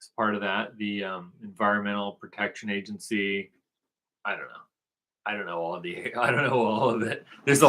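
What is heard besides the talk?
No distinct noise like a dog, phone or traffic.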